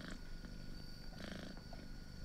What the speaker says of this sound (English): The fluffy white cat meows loudly as he does a figure eight around my legs.